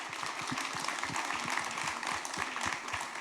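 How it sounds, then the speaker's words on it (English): An audience at a county commission candidate forum in Escambia County applauds, a dense, steady patter of many hands clapping together at an even level throughout. "Let's give our candidates a round of applause."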